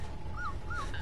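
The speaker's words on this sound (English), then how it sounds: "Is there a puppy around here?" A puppy in Dead Island gives two high, thin rising-and-falling whimpers in quick succession over a low background rumble, with no talking.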